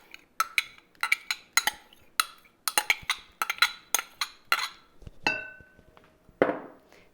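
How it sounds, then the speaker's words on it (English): A spoon scrapes melted butter from one bowl into another, giving a run of close, sharp clinks and scrapes against the bowl in an uneven rhythm, with no talk. "I like to scrape it with a spoon just to make sure all that butter is out"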